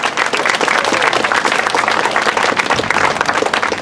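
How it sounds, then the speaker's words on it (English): Loud, dense applause from a community gathering crowd at Kew Gardens, steady sustained clapping throughout with no talk over it. "Can we give a round of applause to Malka Frankel, our community leader here"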